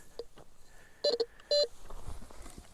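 A handheld metal detector sounds a few sharp electronic beeps over a small chunk of titanium outdoors, with two louder bursts close together amid faint background noise.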